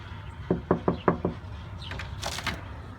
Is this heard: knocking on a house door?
yes